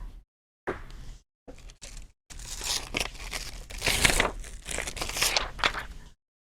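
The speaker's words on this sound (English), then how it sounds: "Take a piece of this foil." A piece of craft foil handled and crumpled up close, starting as short separate crinkles and then becoming louder, denser rustling and crackling that stops suddenly.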